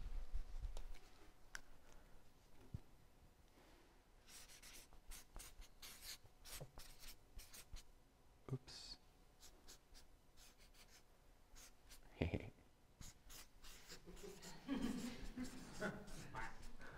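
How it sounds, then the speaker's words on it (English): Pen or pencil scratching across paper in quiet, faint irregular strokes, with a few louder scrapes and brief taps along the way. "let me write this down"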